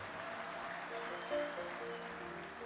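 An Ethiopian church audience claps for the servants at the church's third anniversary celebration, a soft, distant patter of applause with faint sustained tones behind it.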